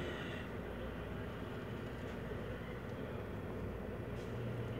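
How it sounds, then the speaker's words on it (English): A toy train runs through a Christmas town music box, giving a steady, continuous low mechanical rumble and whir at close range, with no talking. "You can see that train's moving."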